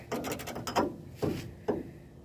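Ratchet wrench clicking as it tightens a bolt on a Jeep Comanche rear axle during leaf spring replacement, a quick burst of rapid clicks followed by two separate louder clicks, close and alone.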